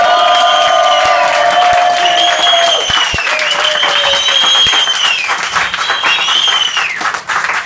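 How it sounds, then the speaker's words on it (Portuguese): Audience applause at a drag stand-up comedy show in Lisbon, steady clapping under loud, high-pitched voices that carry over the crowd throughout. "Aplausos aqui!"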